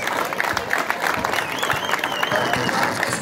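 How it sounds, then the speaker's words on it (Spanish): Audience applause steadily fills a tribute ceremony for a local basketball legend at a tournament in Yaritagua, with dense clapping from a crowd and a few cheers or whistles rising above it throughout. "con un fuerte aplauso, hacemos pasar por aquí a nuestro amigo José Pancho Guerrero."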